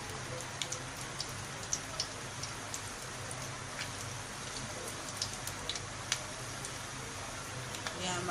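Balushahi dough rounds fry in hot oil in a non-stick pan, giving a steady fine sizzle speckled with sharp little pops and crackles, moderately close.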